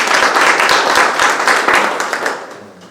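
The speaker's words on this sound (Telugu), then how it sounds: "ఒకసారి తను గట్టిగా క్లాప్స్ కొట్టాలి" A crowd at a business group meeting claps loudly, with individual hand claps audible in the dense applause before it tapers off and fades toward the end.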